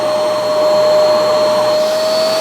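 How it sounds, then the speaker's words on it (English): A Hoover Spotless carpet spot cleaner runs steadily and loudly, a constant motor whine with a high pitched tone over broadband suction noise, no voices. "now we're ready to use the Hoover Spotless. Let's turn it on."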